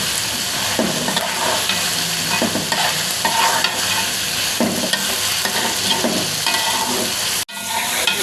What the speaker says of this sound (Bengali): এই বাটা মশলাটা দেওয়ার পরেও আমি তেলের মধ্যে অনেকক্ষণ ভেজে নিব মাংসটাকে